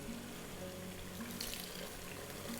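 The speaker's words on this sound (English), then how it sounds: "Ready to pour some beer in here?" Amber ale pours steadily into a pot of homemade chili, a constant soft liquid rush and splash heard close with no voices.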